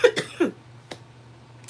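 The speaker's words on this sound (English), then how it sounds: "I wish I could stop coughing" A person with a cold coughs a few times up close, two quick harsh hacks followed by a couple of fainter single coughs in a quiet room.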